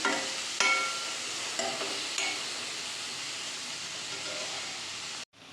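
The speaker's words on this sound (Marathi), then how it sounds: "आता इथं कांदा भाजत आहे कांदा भाजला आहे" Onion frying in a pan hisses in a steady, loud sizzle, broken by a few sharp stirring scrapes before stopping abruptly at the end.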